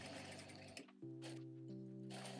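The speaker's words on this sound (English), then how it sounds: "Fold the pieces in half one more time and stitch along the pre-folded edges 1 or 2 mm from the edge." Sewing machine stitching along the folded edges of a fabric dress strap, running steadily with a brief pause before resuming its even whirring hum.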